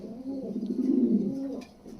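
Pigeons at a home pigeon loft give a low, throaty coo lasting over a second, close and fairly soft, alone with no talk.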